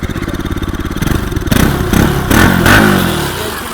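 A used Bajaj Pulsar RS200 motorcycle engine runs with a rapid rhythmic idle pulse, then is revved in a few short bursts that rise and fall, loud and close by.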